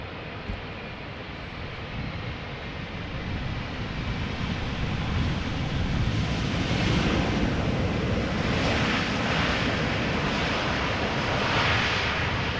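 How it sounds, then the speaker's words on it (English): A jet airliner roars on the runway at Amsterdam Schiphol after touchdown with thrust reversers at idle, a broad rushing engine noise that swells and stays loud and steady. "Sounds like idle reversers."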